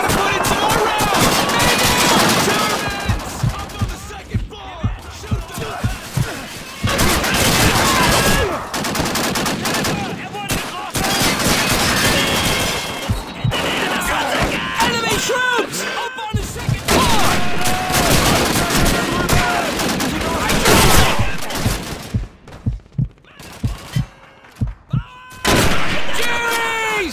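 Dense rifle and machine-gun fire in a Call of Duty 2 battle against German troops, near and loud with rapid bursts and scattered single shots throughout, while soldiers shout over the din.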